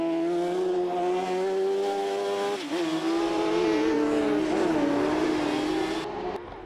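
A 1000cc motorbike-engined RX150 rallycross car races past, its high-pitched engine screaming with shifting revs and a dip as it brakes hard for a hairpin, loud and close.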